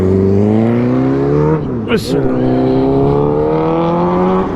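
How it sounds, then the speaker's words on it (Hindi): Motorbikes race past on a road, with a steady loud engine drone that rises in pitch as the revving builds, and a sharp burst of noise near the middle. Heard at close range with no talk over it. "तो यहाँ पे जो बॉयज़ हैं वो भगा रहे हैं बाइकें शाइकें।"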